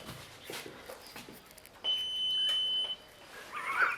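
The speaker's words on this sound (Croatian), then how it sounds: "Nismo da alarm aktivirali." An alarm gives a sustained electronic beep lasting about a second, followed by a shorter high chirp, with faint rustling and movement around it.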